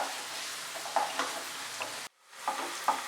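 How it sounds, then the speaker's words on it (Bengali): Onion frying over medium heat in a pan for a posto chicken dish, a soft, steady sizzle with occasional stirring scrapes, briefly cut out near the end before resuming. "পেঁয়াজটাকে খুব ভালো করে ফ্রাই করে নেব, তবে আঁচটাকে কিন্তু মিডিয়ামে রেখে ফ্রাই করব যাতে পেঁয়াজটা পুড়ে না যায়।"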